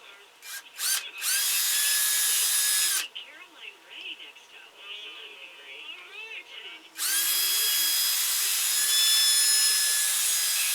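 A power drill whines loudly as it bores into a wooden ventriloquist dummy, stops while someone talks briefly, then starts up again for several more seconds.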